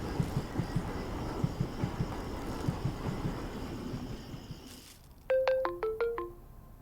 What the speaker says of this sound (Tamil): பா ஃபோன் வருது.